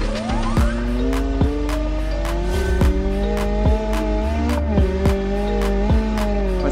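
A rally car engine in the driving game BeamNG.drive revs hard and loud, climbing through gears with repeated upshifts and brief drops in pitch, with tire noise beneath, and no voices.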